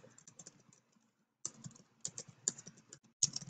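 Quiet close computer keyboard typing as a free-text answer is entered, a brisk irregular patter of key clicks with a short pause before it resumes, with no talking.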